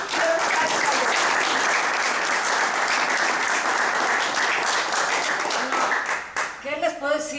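A loud, thick burst of audience applause at a cultural center exhibition event, sustained evenly before thinning out near the end as a voice begins speaking.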